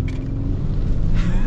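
A 2023 Lexus LX 600 F Sport launching hard from a brake boost, a loud low engine roar building steadily inside the cabin, with brief faint voice traces.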